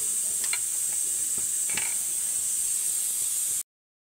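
Food frying in a pan in a home kitchen gives off a steady, bright sizzle and hiss, with a few soft clinks of stirring, close and continuous until it cuts off abruptly.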